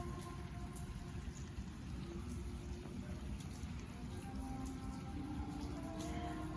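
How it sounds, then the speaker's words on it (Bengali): Rain keeps falling in Saudi Arabia after a night-long downpour, a continuous soft hiss that stays faint and even, with no voices. "এখানে এখনো বৃষ্টি হইতেই আছে।"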